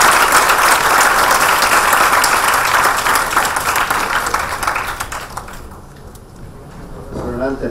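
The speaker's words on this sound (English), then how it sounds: "A round of applause for Dr. Anand." Sustained round of applause from a conference audience after a policy and market outlook talk, dense steady clapping that fades out over several seconds before a voice returns near the end.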